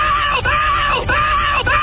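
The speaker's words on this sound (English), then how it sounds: "a woman screaming as she might if she were really" A woman's recorded scream from a noise CD, a continuous loud shrill wail held with brief dips for breath, heavily band-limited and harsh, filling the clip on its own.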